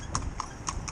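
Horse hooves clip-clop at a steady walking pace on a farm with horse-drawn and riding horses, four crisp evenly spaced strikes, fairly close, over soft background noise.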